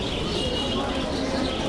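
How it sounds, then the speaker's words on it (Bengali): Pigeons cooing amid a busy pigeon market in Mirpur 1, Dhaka, with steady crowd murmur and trader voices throughout the short stretch. "মাথা মোটা মাথার কবুতর"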